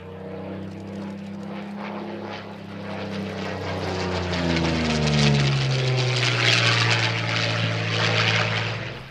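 A Soviet Yak-9 propeller fighter flies past at the Zhukovsky air show, its engine drone rising and falling in pitch as it approaches and passes, growing louder midway and then easing, with no voices.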